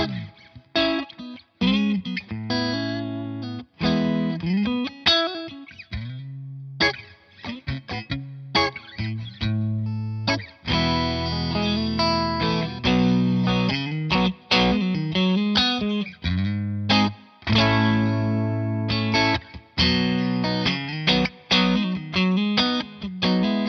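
Electric guitar through a British-style amp with a crunchy tone, mids scooped and bass boosted, plays a rhythmic riff of chords and single notes, steady and up close, with reverb and no voices.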